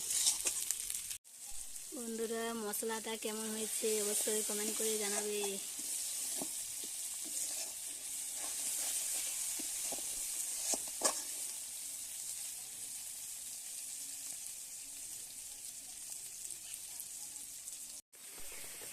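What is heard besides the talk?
spices frying in oil for khichuri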